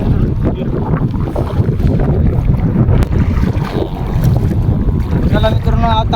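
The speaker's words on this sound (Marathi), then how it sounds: "भरपूर हवा आहे" Strong wind blows across a lake while fishing from a boat, with a steady loud rumble of wind buffeting the microphone throughout, with water and boat noise underneath and faint voices.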